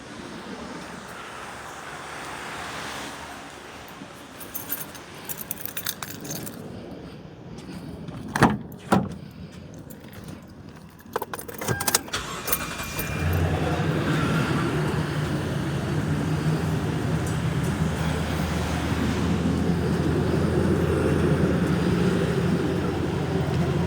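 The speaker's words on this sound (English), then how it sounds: "Let's go and start my vehicle." A second-generation Toyota Sequoia is started after door clunks and shuffling handling noises, its engine then catching and settling into a steady, loud idle rumble that carries on to the end, with no talk.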